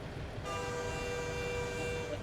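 A loud, steady truck horn blast in a driving video game, a bright tonal drone that starts abruptly and holds for a couple of seconds over a low engine rumble.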